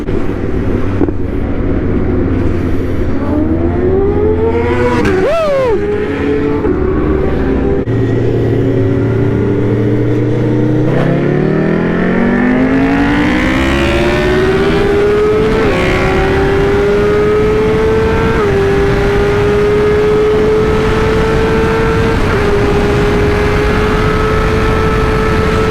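A superbike such as a Yamaha R1M, BMW S1000RR, Kawasaki ZX10R, Honda CBR1000RR, Hayabusa or GSX-R1000 accelerates hard, its loud engine note climbing through the gears with a sudden break where the rider misses a gear, over strong wind noise and no talk.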